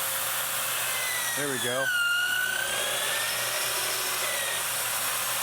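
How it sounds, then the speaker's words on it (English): A drill bit on a six-axis robot bores through the bottom of a steel tube with roughly a 1/8 inch wall, giving a brief rising and falling whine near the middle of the clip, with a short spoken remark. "we'll drill through the bottom"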